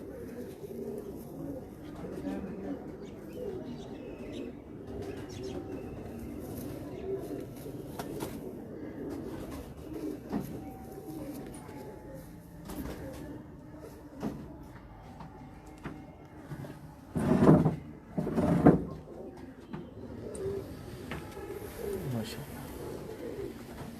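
Soft pigeon coos murmur steadily through a busy background with talking, occasional knocks and clatter, and a couple of louder thumps near the end.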